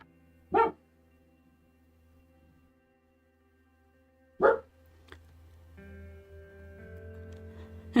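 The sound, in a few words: neighborhood dogs barking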